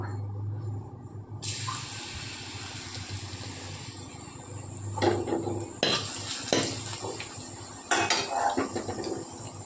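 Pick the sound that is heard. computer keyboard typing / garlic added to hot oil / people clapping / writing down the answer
garlic added to hot oil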